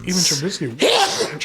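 A single loud sneeze bursts out close by in a small studio setting, overlapping with a voice talking just before and after it.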